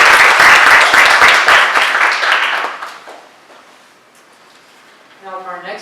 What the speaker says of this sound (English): Please give a round of applause to